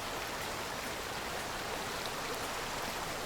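Waterfall and stream in the video game Among Trees, a constant broadband rush of running water, steady and unbroken throughout.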